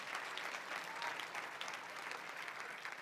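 A church congregation claps together in steady, sustained applause at moderate distance, a dense even patter with no voices standing out.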